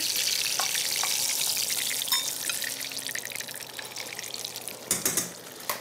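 Two legs frying in a pan during a cooking show: a steady, close, hissing sizzle that runs throughout, ending with a few louder clattery bursts and no talk.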